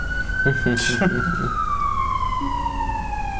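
A loud police siren wails with a steady, slowly falling tone, with a few brief voices in the background early on.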